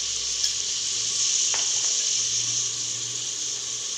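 Vegetables and spices (garam masala, salt, chilli powder, turmeric) sautéing in a pan for vegetable pulao, a steady close sizzle with a couple of brief clinks of stirring, no talking.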